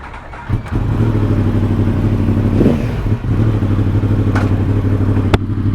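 A 2017 Yamaha R1 sport motorcycle being ridden, its engine droning loud and steady at a constant pitch after a brief pause, with wind rush and a sharp click near the end.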